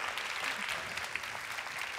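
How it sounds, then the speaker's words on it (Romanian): Studio audience applauding guest Adela Popescu on a Romanian talk show, a steady dense wash of clapping throughout. "Doamnelor și domnilor, aplauze pentru Adela Popescu"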